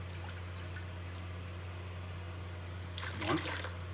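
Water pours into a bowl of lemon juice for homemade lemonade, a short trickling splash near the end after a quiet stretch with a low steady hum beneath.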